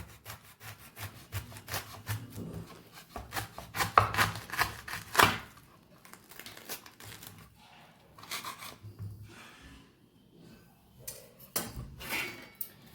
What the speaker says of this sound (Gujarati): તો જે આપણે બટેકા ખમણવાની જે આપણે ચિપ્સ બનાવીએ એમાં જ આપણે આ ખમણીની અંદર આપણે કોબીને ખમણશું